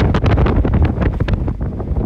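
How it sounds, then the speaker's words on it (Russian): Strong wind gusting across an open mountain road in Romania, loud rumbling buffets battering the microphone in uneven surges, with no voices, dominating the scene throughout. "Здесь сильный ветер!"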